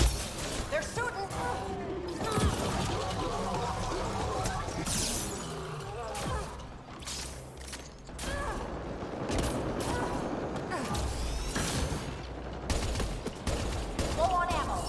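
Video-game firefight with scattered shots and volleys popping at mid to far range, steady background din, and voices talking over it at times.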